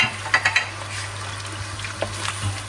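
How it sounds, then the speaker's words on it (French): A spoon stirs mustard into a lemon chicken sauce in a pan, making a few quick close scrapes and clinks at the start, then quieter stirring over a low steady hum. "Et on y ajoute notre moutarde. On mélange bien."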